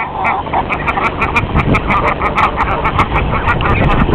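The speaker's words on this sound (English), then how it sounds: "There the duckling's out for the first time." Ducks and ducklings in a village setting quacking and calling in a loud, dense, overlapping chorus close by, with rapid high peeps throughout.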